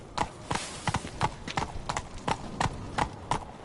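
Geralt's horse Roach trots in The Witcher 3 video game, with crisp, evenly spaced clip-clop hoofbeats close by and loud over a quiet background.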